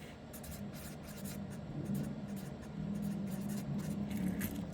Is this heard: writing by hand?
yes